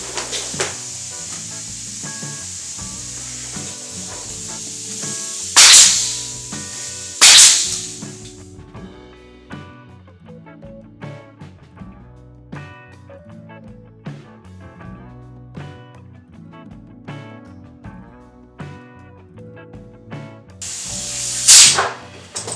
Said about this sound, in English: handy dandy nail gun, and it's going to get loud in here